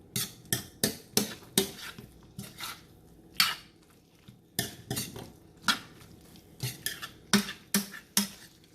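Spoon clatters and scrapes against a pan while broccoli Manchurian is stirred through its sauce, a close, irregular series of sharp metallic knocks with quiet gaps between them.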